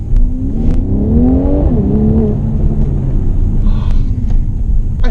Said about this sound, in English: I like the response of this engine, and the 4MATIC allows a certain linearity when I'm doing that kind of acceleration on roads like these